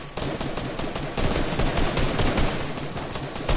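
Rapid automatic gunfire in the video game Fortnite, loud dense bursts of shots running continuously with brief gaps, no talk over it.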